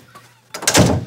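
A door at home shuts with one solid thunk that follows a short stretch of quiet and a faint earlier knock, close and fairly loud, and then fades out.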